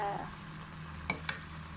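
Sea bass stir-fried with Chinese celery in a pan gives off a soft, steady sizzle, with two sharp stirring clicks near the end; quiet, with no talk.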